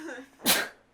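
A single loud, sharp sneeze bursts out close by after a moment of quiet voices, then quickly fades.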